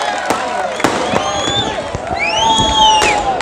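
Crowd at a Samajwadi Party political rally in Malegaon applauding and cheering loudly and continuously, a dense wash of clapping with whistles and shouts rising over it.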